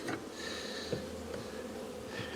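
Honeybees buzz steadily while being moved into a polyurethane foam hive, a faint, close humming with a few louder passes of individual bees, no speech.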